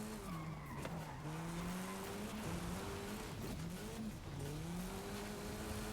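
A car in Forza Horizon 5 skids with long, wavering tire squeals over a steady engine drone, several slides in a row, moderately loud and without speech.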